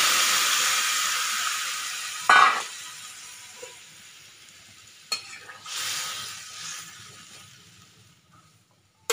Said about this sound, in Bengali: সবজিটা আমার ভাজা ভাজা হয়ে গিয়েছে। দিয়ে দিতে হবে গরম জল।